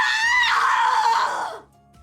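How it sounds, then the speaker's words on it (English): A female video game character in Death end re;Quest 2 lets out a loud, sustained scream lasting about a second and a half, then cuts off abruptly into near silence. "Oh, now she can scream."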